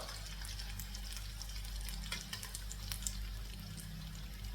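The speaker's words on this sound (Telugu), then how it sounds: "సో నేనైతే నార్మల్గానే ఫ్రై చేస్తున్నాను అనమాట" Food frying in a pan on a home kitchen stove, a steady soft sizzle with low background hum and a few small clinks, fairly quiet and continuous.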